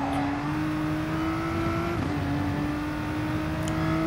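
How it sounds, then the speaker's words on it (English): A race car in GT Sport accelerates hard out of the Monza chicane, its engine a steady, loud, sustained whine with a brief dip around the middle as it shifts, heard alone. "push my car really, really hard while coming out of the chicane and take it very, very nicely"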